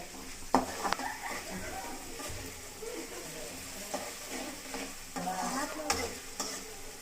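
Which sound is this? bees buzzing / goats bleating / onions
onions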